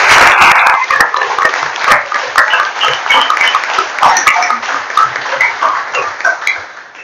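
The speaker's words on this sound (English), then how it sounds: "so if we could give them a round of applause." A small crowd applauds indoors at a board of commissioners meeting, a dense burst of clapping that gradually thins into scattered claps.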